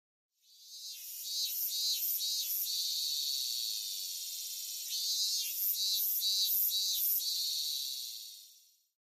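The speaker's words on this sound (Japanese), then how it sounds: "このミンミンゼミの声も録音して用意してるんです。" A recorded minminzemi (robust cicada) gives a loud, steady buzzing drone. The song pulses rhythmically in two long phrases with a brief dip between them, and no voices are heard.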